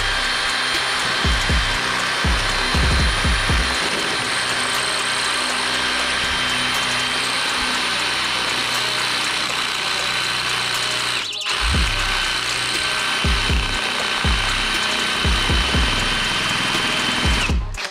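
A power drill grinds steadily into a hardened anti-theft lock insert on a cheap motorcycle or bicycle security device, a loud continuous whine with repeated low knocking bursts, briefly cutting out midway before resuming.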